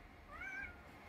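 A house cat gives a single short, soft meow, rising and falling in pitch over a quiet background, with no other sounds around it.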